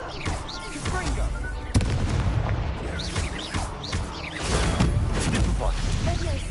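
Confringo fire spells cast in Hogwarts Legacy on PS5 set off loud, booming in-game explosions with rumbling low-end blasts and crackling debris amid dense game sound.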